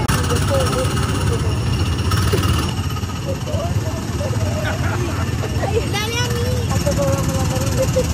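Small go-kart cars at Magic Kingdom rev and drone steadily with engine noise throughout, mixed with crowd babble and people talking nearby.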